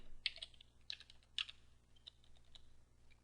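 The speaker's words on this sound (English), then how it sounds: "then you can type in your password" A password typed on a computer keyboard at a Linux login screen, a quiet, close run of light irregular key clicks with short pauses between taps.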